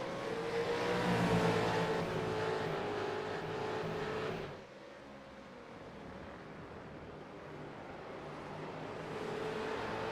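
V8 Supercars roar as they accelerate around the track at the Barcelona round, a loud engine drone that drops sharply midway and then swells again as more cars come through.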